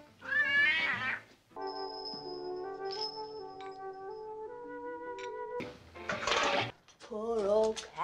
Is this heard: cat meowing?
yes